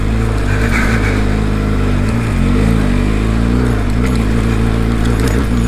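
A Benelli TRK 502X adventure motorcycle climbing a steep hill in the Pyrenees Ranges, its engine loud and close, revving hard with a steady drone that rises and falls as the throttle shifts.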